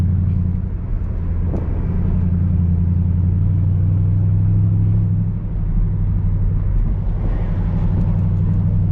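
A 2006 Mercedes-Benz CLS 500 W219 V8 with straight-piped exhaust cruises gently in drive, a steady low droning rumble inside the cabin that swells slightly now and then, with no hard acceleration.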